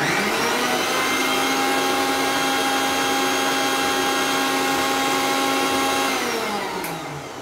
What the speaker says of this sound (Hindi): अब इसे फिर से ग्राइंड कर लेंगे एक बार।